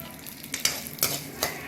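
Cashews and spices frying in a pan for parotta salna, a close sizzle broken by several stirring scrapes of a spoon against the pan, with no talking.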